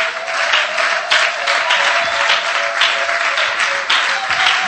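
A church congregation applauds loudly and steadily, a dense wash of clapping from many hands, with faint voices mixed into the crowd.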